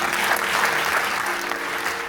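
Warm, dense applause from a hall audience at a closing event in Palermo, many hands clapping in a steady continuous wash, close and full, with no speech over it.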